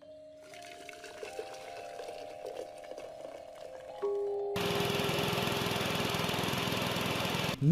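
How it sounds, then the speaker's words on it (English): A generator in the game Sumatra: Fate of Yandi starts up and settles into a loud, steady mechanical running drone after a quieter stretch of ambient tones. "use the wrench and the gas can on the generator to get that up and running"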